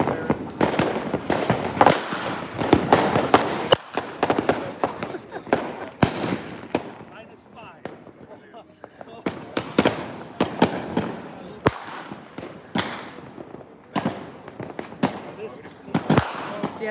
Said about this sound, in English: Yeah, like every street has fireworks going off.